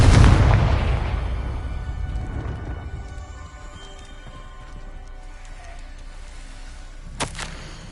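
A Confringo fire spell explodes in Hogwarts Legacy on PS5 Pro: a loud, close boom that rumbles and fades slowly over several seconds, followed by a quieter stretch and a short sharp crack near the end.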